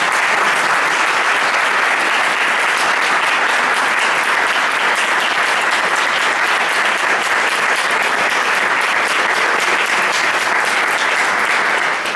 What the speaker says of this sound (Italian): Vorrei che lo cogliessimo con un grande applauso.